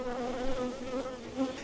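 Honey bees drone around an open hive in a farm yard, a close, continuous wavering buzz that rises and falls slightly, with no talking.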